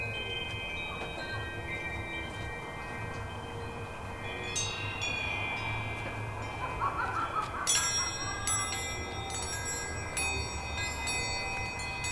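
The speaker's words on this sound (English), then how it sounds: "I'll go and make one of the wind chimes go." Metallic chimes ringing with sustained, overlapping tones, growing busier partway through as several strikes layer over a low background hum.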